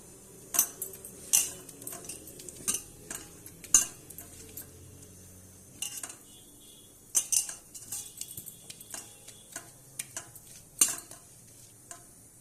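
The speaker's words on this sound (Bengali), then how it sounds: "প্রথমে আমি লবণ দিয়ে দেবো মাছে, স্বাদ মতো হলুদ দিয়ে দেবো, ভালোভাবে মেখে নেব।" Fish being mixed by hand with salt and turmeric in a bowl, with soft squelching and intermittent clinks and taps against the dish, close and fairly quiet.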